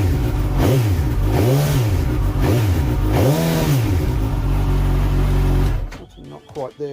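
A Suzuki GSX-S1000S Katana engine is blipped through four loud throttle revs, each swelling and falling back to a rough idle, before the engine cuts off near the end and a few clicks follow.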